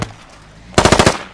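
A technical's mounted machine gun in Squad rips out a short, loud burst of about seven rapid shots after a brief quiet lead-in.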